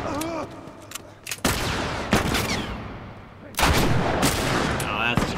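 Gunfire in The Last of Us Part 1 as a bandit is fought near a building: several loud, sharp shots in bursts with reverberant tails and ambient game noise between them.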